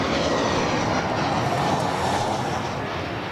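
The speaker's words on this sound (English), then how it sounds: "Another PC-12. It's the one that came up at the base before is now on the move." A Pilatus PC-12 turboprop moving at Adelaide Airport gives a steady, broad engine roar that holds at an even level throughout, moderately loud and heard from a distance, with no talking.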